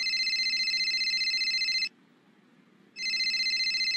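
A telephone rings twice with a bright electronic trill, each ring lasting nearly two seconds, separated by a short pause, heard close and alone.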